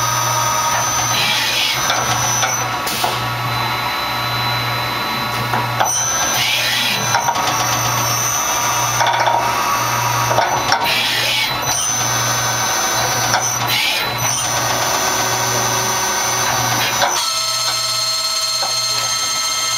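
A Tsugami BS20BII CNC Swiss lathe runs with its main spindle at 1500 RPM, giving a steady mechanical drone with a constant low hum and bursts of whirring and cutting noise from the slides, loud and continuous with no talk.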